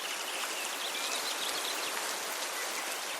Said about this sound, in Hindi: अचानक ही आसमान में काले बादल घेर आए और तेज बारिश होने लगी।